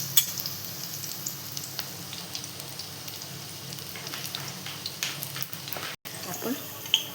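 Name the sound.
besan bread toast frying in a pan after being flipped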